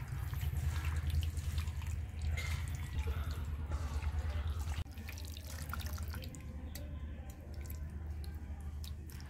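Wet, squishy kneading as food is mixed by hand with lemon leaves in a bowl, marinating for skewers; steady squelching strokes that grow slightly softer partway through.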